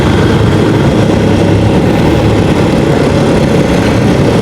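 A Yamaha Xmax scooter engine holds at high revs in a loud, constant, unbroken drone that stays close and steady throughout.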